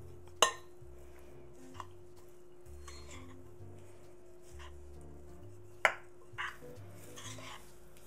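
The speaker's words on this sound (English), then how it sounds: "let's mix this together with the dressing" Chopped leftover turkey is mixed into Thanksgiving dressing in a bowl, with a couple of sharp utensil knocks against the dish and soft, quiet stirring between them.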